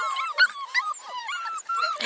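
Young beagle puppies whimpering and yipping in thin, high cries, several short wavering calls in quick succession, close by and with no talking.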